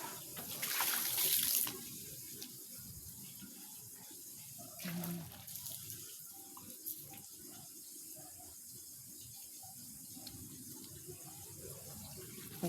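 Rainwater pouring into a container, a steady trickling and splashing stream that runs throughout, with a brief louder gush near the start and faint voices in the background.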